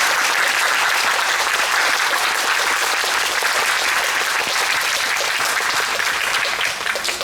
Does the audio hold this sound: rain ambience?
no